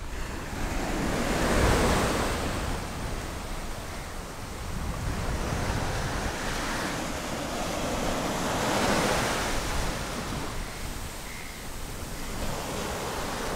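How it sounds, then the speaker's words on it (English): Ocean surf breaking at Burns Beach in Perth, a steady wash of waves with swells peaking and easing every few seconds, mixed with wind noise buffeting the microphone; no talking. "But yeah, this is Burns Beach."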